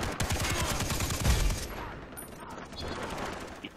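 Rapid automatic gunfire in the video game Far Cry 3, played in co-op: a dense, fast stream of loud close shots that cuts off partway through, leaving a quieter noisy tail.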